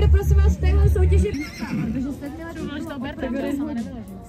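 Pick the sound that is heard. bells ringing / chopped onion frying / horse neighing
horse neighing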